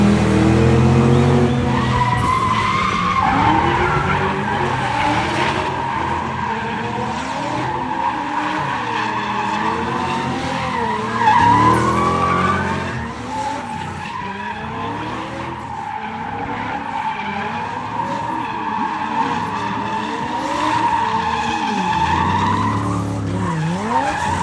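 A BMW E36 and a Chevrolet Lumina drift in tandem, tires squealing in long wavering screeches over revving engines, loud and sustained with surges and dips as the cars slide past.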